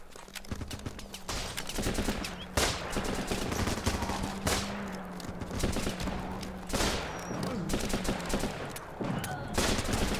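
Gunfire crackles in the video game Running with Rifles, rapid bursts and single sharp shots repeating irregularly throughout, some loud and close, others more distant, with a faint voice briefly audible.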